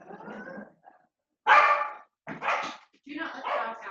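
Dogs bark indoors in short, sharp bursts, loud and close, several barks separated by brief pauses.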